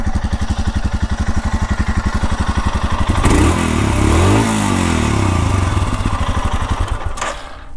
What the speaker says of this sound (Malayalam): സ്റ്റാർട്ട് ചെയ്യാനുള്ള മെയിൻ കാര്യമെന്ന് പറയുന്നത് ഈ ഒരു എക്സോസ്റ്റ് നോട്ട് കേൾപ്പിക്കാനാണ്